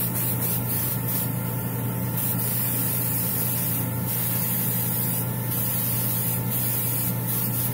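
Stynylrez primer sprayed onto a Batman figure, a steady continuous airbrush hiss with a low hum underneath, unbroken throughout with slight surges in intensity.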